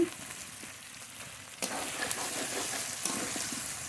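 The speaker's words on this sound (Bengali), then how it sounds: "মাংস নেড়ে নেড়ে খুব ভালো করে কষিয়ে নিয়েছি" Pieces of native duck meat sizzling as they are stir-fried in a pan, a steady close frying hiss with a sudden louder burst partway through and occasional spatula scrapes.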